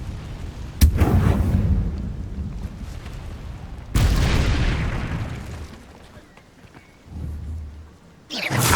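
Incendio fire spell cast in the Hogwarts Legacy video game, heard as loud booming, crackling blasts with a rumbling fiery roar, two big bursts separated by a few seconds and a third starting at the end.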